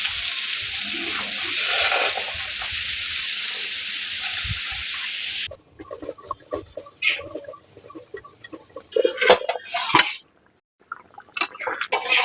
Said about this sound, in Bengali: একদম গরম জল দিয়ে দিতে হবে।